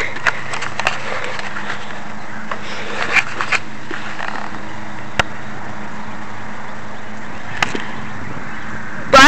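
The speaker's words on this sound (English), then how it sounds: "2 horsepower electric edger" A Black & Decker 2 horsepower electric edger runs in a steady, loud whirring drone with gritty scraping, and a few sharp ticks and clacks pop out over the constant motor noise.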